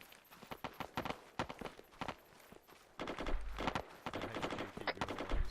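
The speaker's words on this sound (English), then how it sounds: "Start putting rapid fire for now on the hill" Rapid gunfire during an Arma 3 infantry battle, repeated sharp shots in quick bursts, some distant and some closer, growing denser and louder in the second half, with no clear speech.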